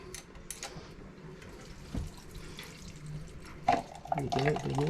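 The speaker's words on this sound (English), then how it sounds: "There's not much water coming out." Seawater runs and splashes from a Yanmar 3JH4E marine engine's cooling water intake, a thin uneven trickle with a few louder gushes, and a person speaks nearby.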